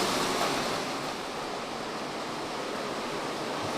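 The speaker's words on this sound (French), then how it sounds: "Il y a la rivière qui est en bas," A river flows below an abandoned Japanese hotel near its onsen baths, a steady broadband rush of water that stays constant and fairly loud throughout, with no talking.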